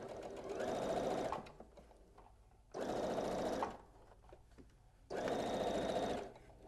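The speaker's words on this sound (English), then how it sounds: "So I'm going to restart my stitching here." Sewing machine stitching fabric for a holiday gift bag, three steady bursts of whirring stitching each lasting about a second, separated by short quiet pauses, close and clear with no talk.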